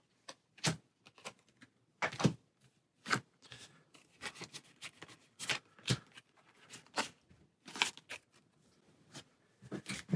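Cards being shuffled for the Aeons End board game, a close series of sharp riffles and taps in an irregular rhythm, clear against a quiet room.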